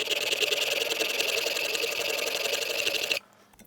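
A plane iron is ground on a very coarse sharpening stone with a steady, loud, rasping buzz that pulses quickly and continuously for about three seconds, then cuts off abruptly to near silence.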